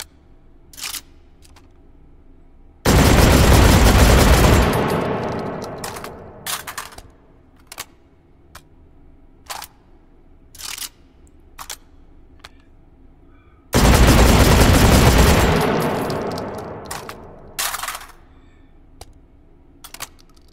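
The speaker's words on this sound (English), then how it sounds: "A fully automatic shotgun underneath a fully automatic shotgun." In the VR game H3VR, a fully automatic shotgun with a second automatic shotgun mounted underneath fires two long, loud, rapid bursts separated by a pause, with sharp clicks and handling clatter around them.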